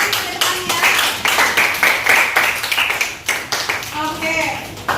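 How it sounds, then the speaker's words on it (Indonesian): Classroom clapping in uneven bursts, hands striking at close range while a voice speaks over the claps near the end. "Tepuk tangan ke depannya."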